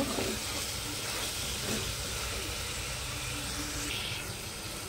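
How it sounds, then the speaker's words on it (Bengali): Ghugni ingredients sizzle and fry in mustard oil in a pan while being stirred, a close, steady hiss with occasional scraping and stirring movements and no voices. "আবারও একটু নেড়ে চেড়ে নেব।"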